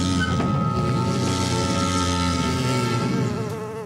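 Cartoon bees buzzing overhead near a school, a steady, loud, droning hum with a dense tonal whine that holds throughout and eases slightly at the end, with no talking.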